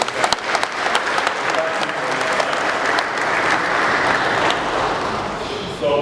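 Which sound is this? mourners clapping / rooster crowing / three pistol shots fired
mourners clapping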